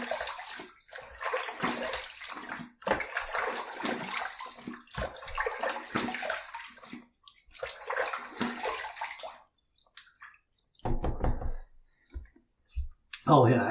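Water runs in several bursts while a razor is rinsed during a wet shave, with gurgling splashes separated by short pauses and a few clicks and taps near the end.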